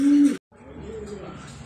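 A racing pigeon gives a short, close coo, followed by a brief pause and then softer, low murmuring sounds.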